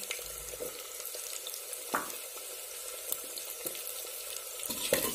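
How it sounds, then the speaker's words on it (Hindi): Onions and green chillies frying in oil for a mutton fry give off a soft, steady sizzle, with occasional stirring clatters and a few sharper knocks. It is fairly quiet, with no speech. "प्याज और हरी मिर्ची को बिल्कुल अच्छे से फ्राई करना है"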